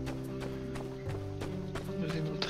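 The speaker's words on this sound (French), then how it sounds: "Là il y a toujours des chevaux, hein." Rhythmic clip-clop of running horse hooves in the video game My Time at Sandrock, over a steady synthetic hum, regular and fairly close, with no talk.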